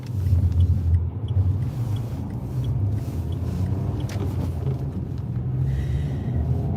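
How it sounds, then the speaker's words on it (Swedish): Car engine rumbling steadily as the vehicle pulls out, a loud, continuous low drone close by, with no talking. "Nu kan jag nog köra ut."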